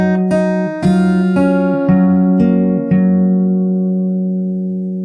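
Solo fingerstyle acoustic guitar plays the opening part of a song, about six evenly spaced plucked notes ringing into one another, close-miked and steady, with the last note fading out.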